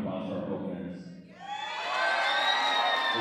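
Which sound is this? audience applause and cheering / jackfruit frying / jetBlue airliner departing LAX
audience applause and cheering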